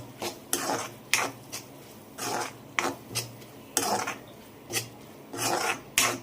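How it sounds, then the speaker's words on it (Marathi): Cabbage, tomato and moong dal with spices being stirred in a pan, heard as a series of short scraping, rasping strokes of a spoon against the pan. The strokes are quiet and irregular, with no talking. "आणि आता पुन्हा हे परतून घेते."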